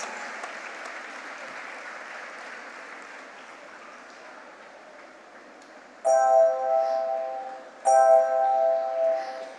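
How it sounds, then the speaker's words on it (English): School audience applauding prize winners from grades one to eight, a soft, sustained patter of clapping that gradually fades, then is overtaken by two loud, ringing chime-like tones near the end. "Let's hear a resounding applause for our prize winners from grade 1 to 8."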